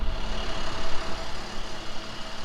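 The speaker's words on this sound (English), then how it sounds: "I got the truck running right there." A flatbed truck's engine idles at a low, steady rumble throughout, fairly close and unbroken, with no talk over it.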